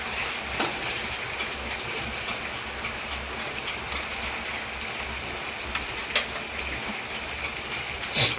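Food sizzling and frying in a pan, a steady hiss with occasional sharper crackles and pops, close and moderately quiet, with no talking.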